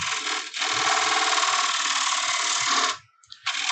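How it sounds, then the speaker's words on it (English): A large bowl gouge cuts into a wooden platter spinning on a lathe, giving a loud, steady rough shearing roar that holds for about two and a half seconds, then briefly stops before the cut resumes. "So I'm going to grab me my larger bowl gouge here and make these cuts a little bit faster"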